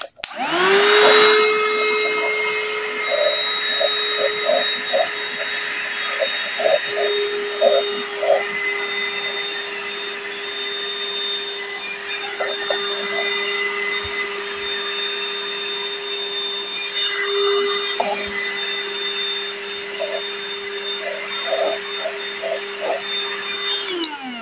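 A Temu vacuum cleaner fitted with a small nozzle runs steadily on a floor, a loud continuous motor whine with a strong tonal hum that starts abruptly and holds for over twenty seconds before cutting off, with faint clatters from the nozzle.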